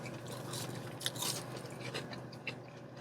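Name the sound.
chewing a Burger King Italian chicken sandwich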